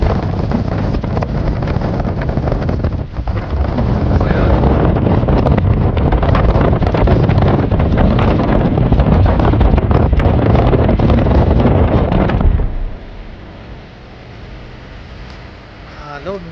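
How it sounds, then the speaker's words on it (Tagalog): Strong wind roars and buffets the microphone, loud and steady for most of the stretch, then drops away suddenly near the end. "Maalon na hangin."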